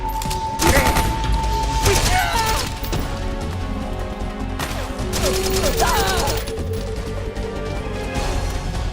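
Gunfire in Metal Gear Solid 4 during an enemy firefight: dense, loud bursts of shots and crashing impacts over layered game ambience and effects, continuing across the whole stretch.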